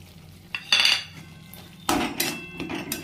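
A metal spoon scrapes and clinks against a pan while ground spices and ginger garlic paste are fried, several short bursts of stirring clatter separated by quieter gaps.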